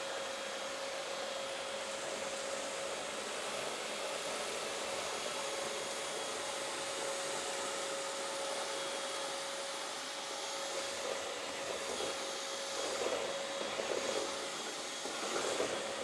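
A Bissell 3-in-1 stick vacuum picks up debris with a constant whirring motor drone and a steady high whine. The sound holds evenly throughout, with slight rattles near the end and no talking.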